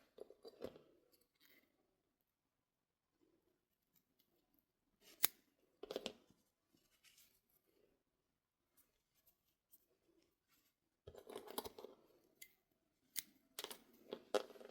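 Scissors snip crochet yarn for a peacock cross bookmark, a few faint, crisp clips spread across quiet pauses, with a small cluster of cuts near the end.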